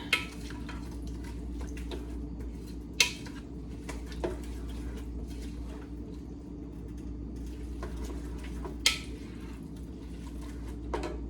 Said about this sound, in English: gonna give that a quick stir